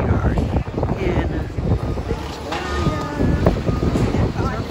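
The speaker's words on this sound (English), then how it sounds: "So far, it is very windy." Gusty wind buffets the microphone with loud low rumbles in Victoria on a cold Alaska cruise stop, while people talk underneath, voices partly masked by the blustery noise.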